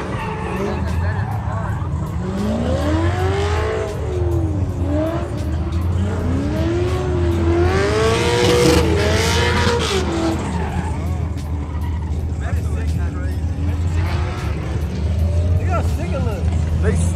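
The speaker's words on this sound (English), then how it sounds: "These are all the drift cars." Drift cars at an outdoor car event, engines revving in rising and falling sweeps while tires squeal and skid, loud but somewhat distant under close crowd chatter and people talking.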